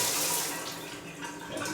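Water running from a hotel bathroom tap at MGM Grand Hotel & Casino, a steady broadband rush with strong pressure, close and fairly even throughout.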